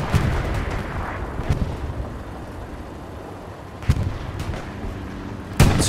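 Tank cannon shots in a competitive tank video game match, a few sharp booming blasts over steady engine rumble, with the loudest shot at the end.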